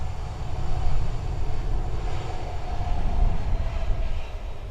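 An airliner taxis past at Dublin Airport, a distant low rumble and broad roar that swells and ebbs, steady and with no talk.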